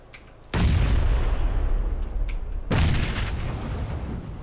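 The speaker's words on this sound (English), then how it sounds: "He's throwing grenades at right." Two grenade explosions in the video game PUBG, each a sudden loud boom with a rumbling decay, the second about two seconds after the first, with no talking over them.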